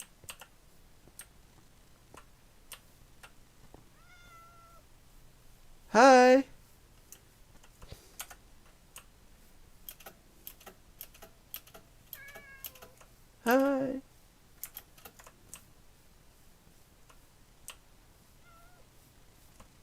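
A cat meows twice, loud and close, about seven seconds apart, with keyboard typing and a brief spoken greeting around it.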